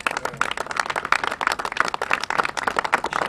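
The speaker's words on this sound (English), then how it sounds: "let's give them a round of applause again" An audience at a community anti-violence event applauds Mo and Jahar of the Peaceoholics, with distinct, fairly close hand claps in a lively irregular rhythm that carry on for a few seconds.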